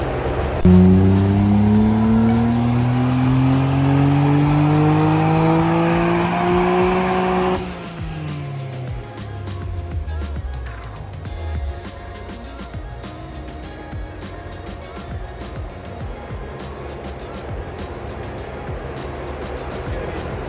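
A stock Nissan R34 GT-R on a dyno revs hard and loud, its turbo engine note climbing for several seconds, then cuts off abruptly and winds down into a low, rumbling idle.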